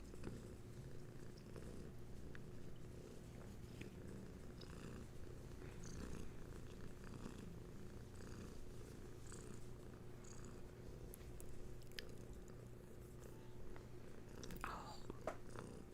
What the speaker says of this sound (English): She's currently looking at the microphone and purring at it.